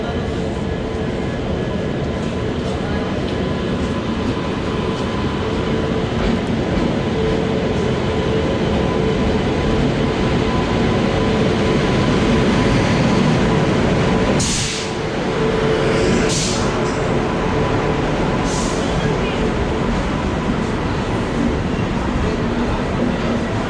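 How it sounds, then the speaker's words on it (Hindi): The North East Express pulls in behind a WAP-7 locomotive, a loud continuous rumble and rail roar filling the whole stretch with a few sharp squeals and clatters near the end, close at hand. "तो दोस्तों ट्रेन हमारी आ चुकी है, और वेब 7 के साथ आई है, टीकेडी की वेब 7 के साथ।"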